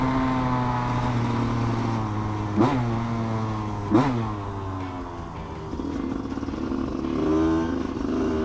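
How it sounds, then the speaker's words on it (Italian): A TM 125 EN enduro motorcycle engine revs up hard on a road, its pitch climbing and dropping at two quick gear shifts, then pulling steadily again. "Dio, no, se tira sta moto!"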